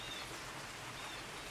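Steady rain falls outdoors, heard from beneath an overhang as a soft continuous wash of drops that stays even and fairly faint throughout.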